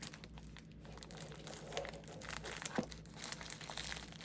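Quiet crinkling and snipping of bubble wrap packaging being cut with dull scissors, close by, with a few sharper crunches and no speech.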